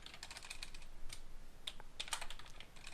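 Rapid typing on a computer keyboard while a game script is written, with a steady run of close, crisp key clicks and a few louder strikes, no voices.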